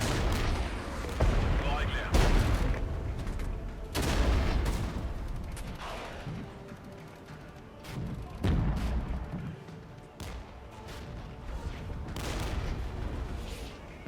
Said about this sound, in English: Artillery is coming in, probably going to do a decent amount of damage.